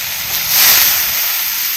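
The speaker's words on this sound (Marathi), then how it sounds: "आता ह्याच्यात आपण भिजवलेली ही डाळ टाकायची" Soaked lentils (dal) tipped onto sautéed onions in a hot pan for a village-style dal kanda, giving a steady, loud hiss that swells briefly and then settles into continuous sizzling, with no voices.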